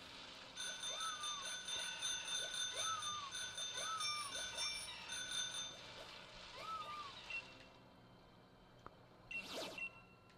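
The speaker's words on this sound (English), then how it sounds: "There's the bike bell." Bicycle bell rings in a series of bright metallic dings, some repeated in quick pairs, fairly faint against a quiet background, with a brief noisy burst near the end.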